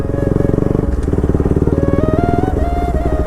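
A Bajaj Pulsar RS200 motorcycle rides through deep water at night, its exhaust giving a loud, steady, throbbing engine note with a rapid pulse that shifts slightly in pitch as it pushes on.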